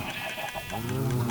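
Minecraft sheep bleating on a farm after shearing, one long wavering bleat that swells louder toward the end, close and alone.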